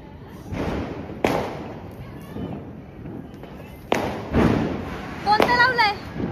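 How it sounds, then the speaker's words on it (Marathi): During Diwali, a big firecracker goes off in a few sharp, loud bangs and thuds spread over several seconds, mixed with people chatting excitedly nearby. "मोठा फटाका लावलाय."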